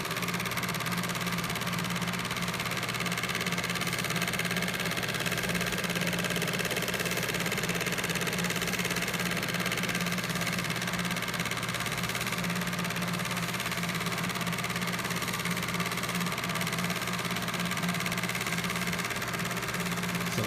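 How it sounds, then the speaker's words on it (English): Vintage Kodak Brownie 8 model A-15 regular 8mm movie projector running, a steady mechanical whir and hum with continuous fast clatter, unbroken and close, no talk. "That is the Brownie 8 model A-15 regular 8 movie projector."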